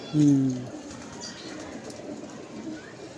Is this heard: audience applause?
no